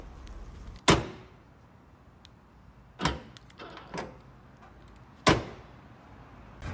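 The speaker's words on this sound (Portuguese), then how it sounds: "Apertura de porta-mala na chave canivete." Several sharp mechanical clunks and thumps ring out at intervals as a Volkswagen Gol G5's trunk latch releases via the flip-key remote, with quiet background between them.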